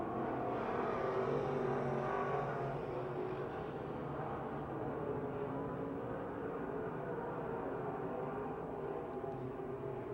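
Race cars roaring around a speedway oval on the final lap, a dense continuous engine drone from a distance with a steady wash of crowd and track noise.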